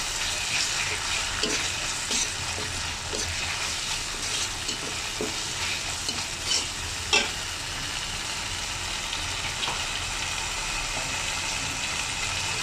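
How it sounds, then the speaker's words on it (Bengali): Ginger paste frying in hot oil for a cabbage and potato dish, a continuous close sizzle with soft spatula scrapes and stirring taps scattered throughout, with no talk. "আর 1 চামচ আদা বাটা দিয়ে দিচ্ছি। আমি এখন এটা তেলে মিশিয়ে নেবো"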